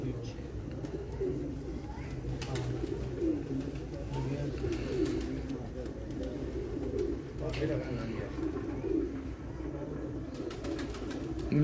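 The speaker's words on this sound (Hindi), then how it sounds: "उस्ताद मुहतरम उस्ताद सुहेल अंसार खान साहब वाले कबूतर साहब, माशाल्लाह हमेशा से टॉप क्लास कबूतर लाहौर के।" Pigeons at a Lahore pigeon loft coo in a steady low murmur that runs through the whole stretch, with a faint background of human voices.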